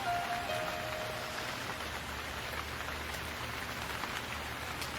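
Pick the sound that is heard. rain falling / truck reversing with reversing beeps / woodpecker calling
rain falling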